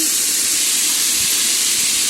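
Cut potatoes added to hot oil in a wok with nigella seeds and yard-long beans, a loud, continuous, broad hissing sizzle filling the whole moment, close and steady without talk.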